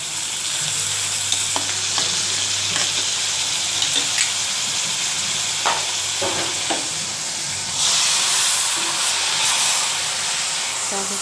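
Leafy greens hitting hot oil in a pan on a gas stove and being stirred: a loud, continuous sizzle and hiss with scraping clatters of the spatula, swelling into a fresh burst of steam near the end, with a few quiet words.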